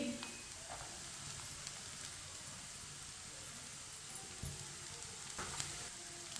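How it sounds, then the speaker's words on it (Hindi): Finely chopped cabbage frying in a pan on lowered heat, a continuous hissing sizzle with occasional stirring scrapes, close and steady throughout. "एक प्याली पत्ता गोभी डालेंगे बारीक कटी हुई"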